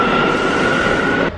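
Train noise at a station during a delay: a steady, loud rumble with a sustained tonal whine, cut off abruptly near the end.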